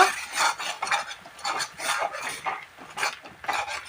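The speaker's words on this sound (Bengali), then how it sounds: "কাঁচা পাকা লঙ্কা পেঁয়াজ রসুন আদা একসঙ্গে পেস্ট করে নিয়েছি দিয়ে দেব মশলাটা ভালো করে কষিয়ে নেব" A paste of green and red chili, onion, garlic and ginger frying while being stirred, with rhythmic scraping strokes of a spoon in the pan under a soft sizzle, repeating roughly every half second.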